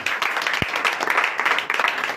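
A congregation at a night deliverance church service in Comè, Benin claps and cheers in a dense, lively burst. One low thump comes early, and faint voices mix in with the clapping.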